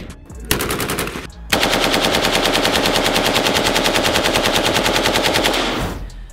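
AK-47 automatic rifle firing a short burst, a pause, then a long sustained rapid-fire stream of shots, loud and close with no talk.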